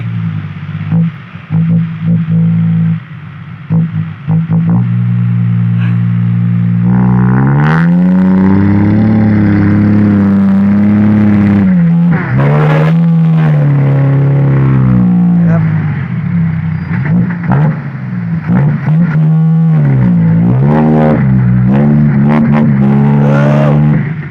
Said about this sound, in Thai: รถไถเลย รถไถเลย